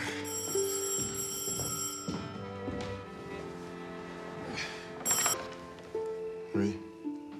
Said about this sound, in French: Il n'y a plus personne pour répondre au téléphone ici?